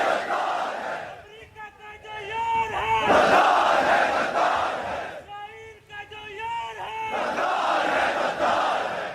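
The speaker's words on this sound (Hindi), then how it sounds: "ये लोग नारे लगा रहे हैं पाकिस्तान की सड़क पर" A large crowd on a street in Pakistan chants political slogans in loud, rhythmic unison, voices rising and falling in repeated call-and-response waves across the whole stretch.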